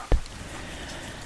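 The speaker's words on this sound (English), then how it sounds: "And all the sounds of the rain." Rain patters on a porch outdoors in a low, steady wash, with one sharp close drop or tap near the start, quiet and without speech.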